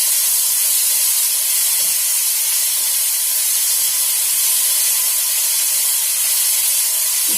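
Mixed vegetables for palak shak, including pumpkin, fried in oil, heard as a loud continuous even hiss of frying with faint clicks underneath and no voices.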